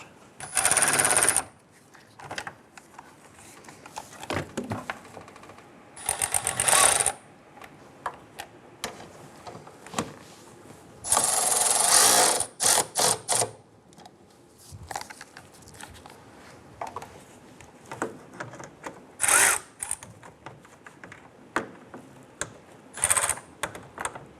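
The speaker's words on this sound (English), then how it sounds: "Let's go ahead and tighten them all down." A ratchet tightens nuts onto the harmonic balancer bolts of a 1997-2006 Jeep Wrangler, giving bursts of rapid metallic clicking separated by quieter gaps and small clanks, close by with no talking.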